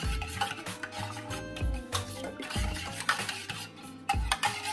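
A spoon stirs yeast and sugar into warm water for pizza dough, making repeated close scraping and clinking strokes in an uneven rhythm against the bowl.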